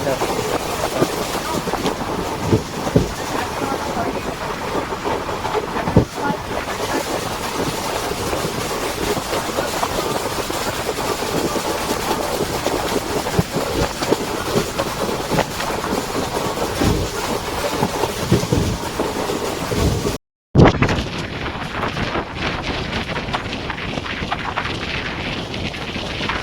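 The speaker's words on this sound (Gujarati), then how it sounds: "મિત્રો ટ્રેન તો ફૂલ સ્પીડ આવી ગઈ છે" The Pune–Veraval Express, train 11088, runs at full speed between Gondal and Jetalsar Junction, producing a steady, loud rumbling roar with rail clatter throughout and a brief cut near the end, while a voice speaks briefly.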